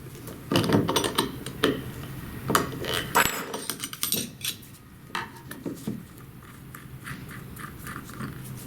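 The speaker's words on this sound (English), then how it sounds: "use a 1/2-inch wrench to remove the nut holding the diaphragm and washer" Metallic clinks and scrapes of a 1/2-inch wrench working the nut off the diaphragm and washer of an inlet water pressure regulator, a rapid series of sharp close taps and rattles with no talk.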